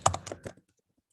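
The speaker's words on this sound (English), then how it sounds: "I'm just typing some sample email address" A short burst of about five crisp keystrokes on a computer keyboard, close and distinct, followed by silence.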